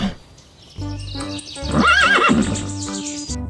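A toy horse plays a recorded neigh, a bright rising and falling whinny mixed with clip-clop hoofbeats, loud and close with no talk over it.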